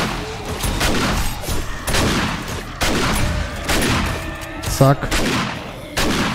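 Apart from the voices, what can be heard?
turret gun firing at zombie horde in video game 7 Days to Die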